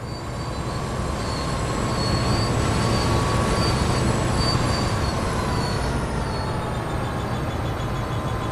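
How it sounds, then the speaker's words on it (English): Locomotive and wagons rumbling on track in Train Sim World 2020, a loud steady rolling drone with high squealing wheel tones, no sharp coupling clank evident. "climb down from the cab and attach the coupling between the vehicles"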